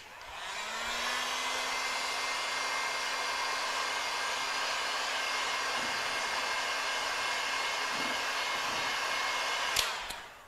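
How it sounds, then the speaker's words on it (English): A heat gun blows steadily for about nine seconds while shrinking a capsule of wrap over the top of a wine bottle, giving a loud, even whirring rush that cuts off with a click at the end. "I need to put the shrink wrap on top of the bottle and then just get the heat gun onto this bad boy."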